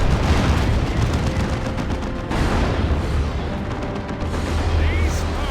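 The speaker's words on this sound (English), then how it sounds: "the Stormtroopers are getting blown apart by the battle cannon" Dawn of War II: Retribution battle with a Leman Russ tank's battle cannon and heavy gunfire: dense, loud booms and rattling shots overlap continuously, with a commentator talking over the combat.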